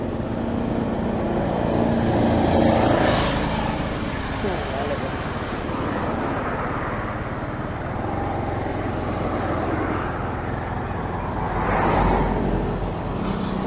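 Road traffic passes a scooter riding through town. A constant rumble of wind and engine swells twice as vehicles go by, with faint talk in the background.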